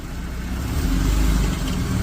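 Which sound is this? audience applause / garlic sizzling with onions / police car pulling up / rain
police car pulling up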